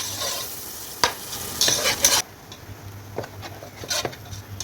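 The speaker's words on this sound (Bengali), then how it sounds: "পেঁয়াজটাকে পাকাবো যেন পেঁয়াজটা একটু ব্রাউন কালার হয়ে যায়" Onions stir-fry with green chillies in a pan until brown, for a hilsa fish and taro dish. Loud spatula scrapes and stirs ride over a crackling sizzle that drops to a quieter fry halfway through, with scattered taps after.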